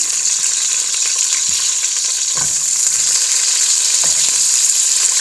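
Onion fries in a hot pan, a loud, close, steady hiss and sizzle running unbroken, with a couple of soft scrapes or taps from a utensil.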